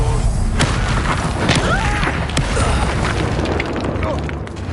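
A spell explosion in Hogwarts Legacy bursts into a loud, continuous booming roar with crackling debris and magical whooshes layered over it. It stays dense and close throughout, with faint voices underneath.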